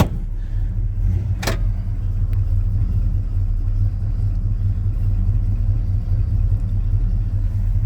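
A cold Chevy C10 pickup truck engine rumbles deeply and steadily from inside the cab, with one sharp click early on and the low idle droning on throughout.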